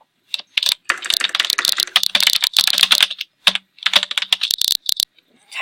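Rapid bursts of typing on a computer keyboard, close and loud, with short pauses between flurries of key clicks and a brief silence near the end.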